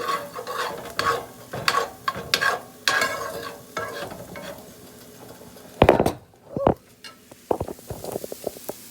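Garlic sizzling and frying in a pan while being stirred, with scraping strokes and utensil knocks at close range and a steady crackle underneath.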